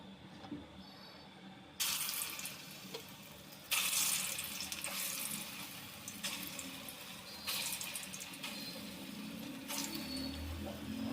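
Punugulu batter dropped into hot oil, Andhra style, frying with a steady hiss and bubbling that jumps louder in several abrupt surges, fairly close and without any voices.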